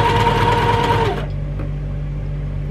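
A sewing machine stitches two fabrics together for a quilt block, a loud steady mechanical whir up close that stops abruptly about halfway, leaving a quiet hum.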